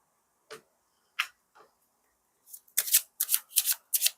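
Tarot oracle cards are handled during a reading: a few isolated soft flicks, then a quick run of crisp riffle-shuffle bursts, close and clear with no voice over them.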